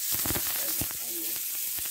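Onion and ground meat sizzle in a frying pan, a soft steady hiss with a few faint clinks, brief and close.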